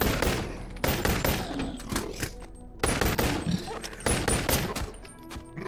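Dual-wielded pistols firing in the VR game Bonelab, several loud bursts of rapid shots separated by short pauses.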